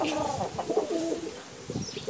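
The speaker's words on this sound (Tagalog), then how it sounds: "Mga galing Singapore na kalapati" Racing pigeons from Singapore coo softly in low, throaty bursts close by, with a few faint chirps and light rustling around them.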